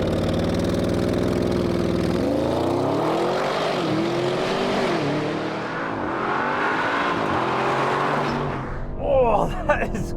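A 2023 Audi RS7 Performance with a 630 hp V8 launches from launch control: a deep idle and rumble surge into a loud climbing roar, with gear shifts stepping the pitch down several times before it fades, and someone talking over it.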